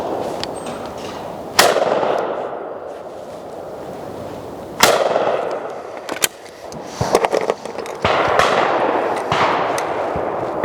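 Lanber Sporter shotgun fired at clay targets outdoors: several sharp, loud shots at irregular intervals, each a crisp crack with a brief tail, with quieter handling noise in between.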